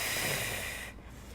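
A single long, forceful exhale sounds close to the microphone during a pregnancy physioball workout. The breathy hiss lasts nearly a second and then stops abruptly.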